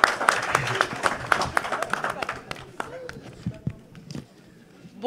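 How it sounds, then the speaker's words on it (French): Scattered, uneven clapping from an audience greeting a pastor called up to speak, sharp individual claps that start fairly strong and gradually thin out. "Applaudissez, Pasteur Ricardo Batalbert, s'il vous plaît"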